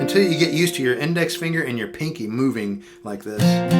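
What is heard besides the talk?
No everyday noise stands out behind the speech.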